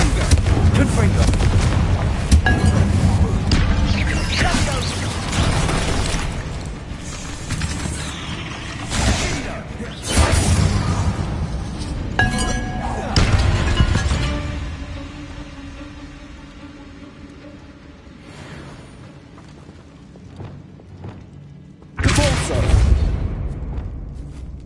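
Booming blasts and crashing impacts come from Confringo and other explosive spells striking barricades in a Harry Potter game, arriving in several loud bursts with quieter stretches between and voices talking in places.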